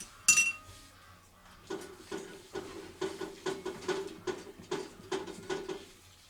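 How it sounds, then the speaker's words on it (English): Skincare products are tipped and scraped into a bowl, producing a series of bright clinks and taps, roughly evenly spaced, close and clear against a quiet background. "So I'm going to empty all these things inside this bowl."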